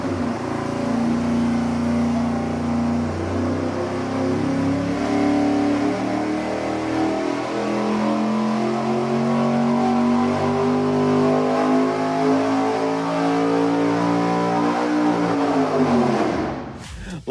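A 363 engine tested on a dyno holds a loud, steady run for about sixteen seconds, its tone climbing gradually in pitch before abruptly cutting off at the end.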